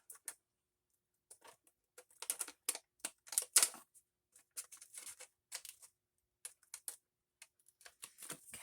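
Scissors snip through sticky paper in a series of quiet, crisp clicks and cuts, irregular and close, with short pauses between bursts and no talking.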